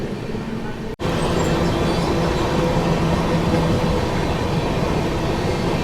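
A passenger express train runs at speed, heard from inside a coach as a loud continuous rumble with a low rolling hum, briefly cut by a short dropout near the start, then steady to the end.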